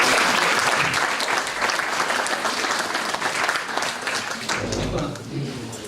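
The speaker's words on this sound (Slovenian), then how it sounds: "mislim, da se tudi zaslužijo en aplavz" A Women's Day event audience at Sromlje applauds, dense sustained clapping filling the hall steadily throughout, loud and close, with a few voices mixed in.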